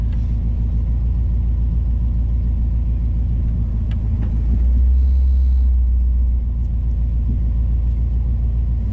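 An old Chevy pickup truck driving on a narrow road, steady low engine rumble throughout with a brief deeper surge midway, no talking.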